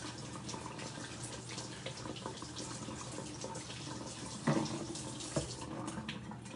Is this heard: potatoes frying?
no